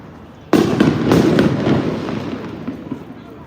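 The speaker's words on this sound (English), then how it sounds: "Firework is in New York." Fireworks go off in New York City, a sudden loud blast followed by a rapid spray of crackling pops that gradually fade over a few seconds.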